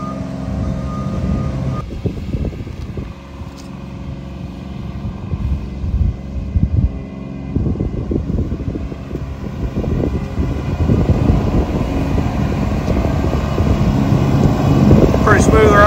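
A Bobcat L28 articulated wheel loader drives along, its diesel engine a loud, steady rumble close by that grows heavier toward the end, with a backup beeper and wind buffeting the microphone.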